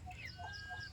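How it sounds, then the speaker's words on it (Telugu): Local-breed roosters and a hen brought for sale give a few short clucks close by, with no talking. "ఈరోజు అయితే కొన్ని కోళ్ళు అయితే మీ ముందుకి తీసుకొచ్చానండి అమ్మకానికి"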